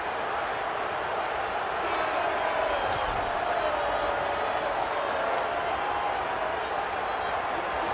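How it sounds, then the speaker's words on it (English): A football stadium crowd at Ole Miss vs. Michigan State roars in a dense, steady wall of cheering and scattered clapping for the defense on a big third down, loud and continuous with no letup. "this crowd is getting behind this defense"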